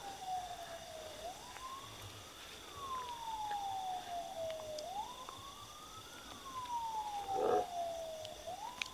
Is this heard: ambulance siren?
yes